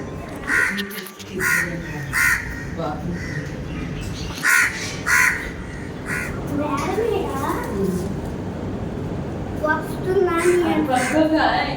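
Harsh crow caws repeat close by in short bursts, with people talking between and over them.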